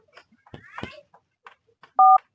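Telephone keypad tones sound as a number is dialed: two loud, clean beeps near the end, following scattered speech in Bhojpuri.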